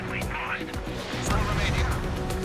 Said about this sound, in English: Mage 2, missile away.